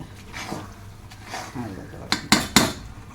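Thick Mysore pak mixture being stirred in a metal pan, a low scraping churn followed by three sharp clanks of a utensil against the pan, with faint voice in the background.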